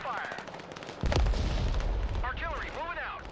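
Artillery fires in the Broken Arrow military strategy game: one heavy, close boom about a second in, with a long rumbling tail. Brief radio-style voices chatter before and after it.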